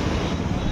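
Sea waves washing onto a beach at an eco retreat, a loud, steady broadband roar of surf with wind noise buffeting the microphone throughout.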